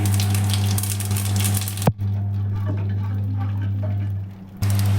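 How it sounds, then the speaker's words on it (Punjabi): Cumin and coarsely crushed dried coriander crackle in hot oil for an aloo soyabean curry, a loud close frying hiss over a steady hum, cut briefly by a sharp clatter before it fades to a quieter sizzle. "ਜੀਰਾ ਚਟਕ ਗਿਆ ਏ ਜੀ"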